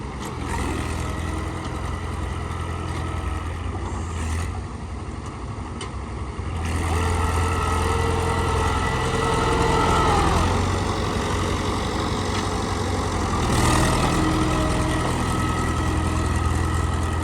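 A 23-gear tractor engine runs steadily at a low idle, a continuous heavy rumble with a slight rise partway through and no voices.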